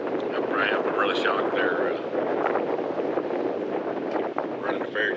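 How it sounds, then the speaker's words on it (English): Strong gusting wind buffets the microphone in a steady roar near a river ferry crossing in Shawnee National Forest, with someone talking over it. "I bet the wind's gusting at what, 30, 35 miles an hour at least."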